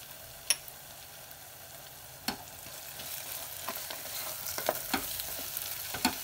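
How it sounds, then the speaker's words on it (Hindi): Onion and chopped ginger sauté on low heat in a pan as a jackfruit curry is started, with a steady quiet sizzle and several sharp scrapes and clacks of a stirring spoon against the pan, no talking. "अब इसे दो मिनट भून लेना है, और बीच बीच में चलाते हुए धीमी आंच पे।"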